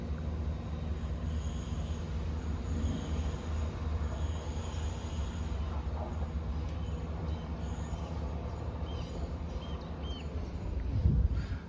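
ScotRail Class 174 diesel unit departing Stonehaven station on the Inverness to Montrose service, a steady loud rumble of wheels and carriages passing close by throughout, with a brief rise in wheel noise near the end.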